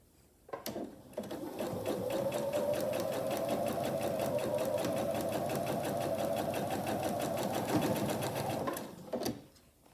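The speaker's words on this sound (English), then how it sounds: "I'll go ahead and take it to the machine, again, sewing on my drawn lines" A sewing machine stitching along drawn lines on a Broken Wheel quilt block, running in one continuous rapid whirring burst of close, even needle strokes for about eight seconds, starting and stopping cleanly, with no talk.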